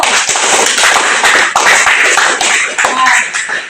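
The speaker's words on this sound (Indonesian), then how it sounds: "Tepuk tangan untuk kelompok 1." A classroom of students applauds a discussion group, giving a loud, close burst of many hands clapping that keeps up steadily for several seconds.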